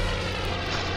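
In Spider-Man 2, a video game airplane's engine drones loudly and steadily with a thick propeller-like hum, filling the whole moment without voices.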